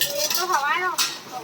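Dishes and metal utensils clink and clatter while being washed in a home kitchen, a steady run of light knocks and scrapes underneath a person talking.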